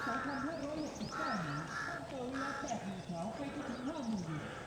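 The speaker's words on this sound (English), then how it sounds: "all I can hear is crows and sparrows." Several crows cawing repeatedly outdoors in Bangkok near a lumber salvage yard, their harsh calls overlapping against a constant background of amplified talk from an election loudspeaker.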